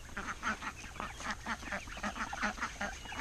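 A flock of ducks, mostly Indian runner types, at a muddy pit by a creek, quacking in rapid overlapping calls that come in a busy, continuous chatter at moderate distance.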